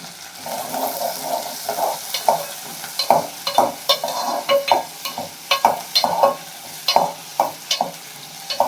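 Dried red chillies and curry leaves fry in hot oil, crackling and sizzling in bursts with stirring scrapes, close and fairly loud, no talking.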